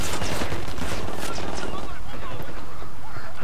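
Bursts of rapid gunfire in Ghost Recon Wildlands, loud and close, with overlapping shots and rattling automatic fire that fades toward the end, while a voice talks over it.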